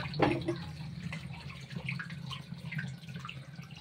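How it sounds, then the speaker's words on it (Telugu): Pineapple tepache juice trickles through a funnel into a bottle, a quiet, steady liquid pour with soft splashing and a few faint drips, close and low in level. "ఇలా ఈ సీసాలో ఒక కూన్ పెట్టుకొని ఇందులోకి ఈ జ్యూస్ అంతా కూడా తీసేసుకోవాలి."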